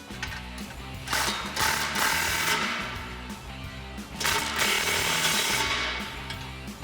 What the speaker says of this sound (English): grab our 15mm socket, get our pipe straightened out, and tighten down those nuts evenly.